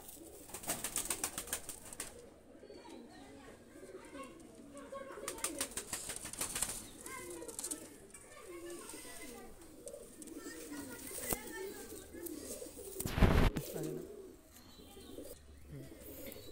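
Male and female Pakistani high-flyer pigeons coo softly close by while wings flap in brief bursts, with a person talking throughout.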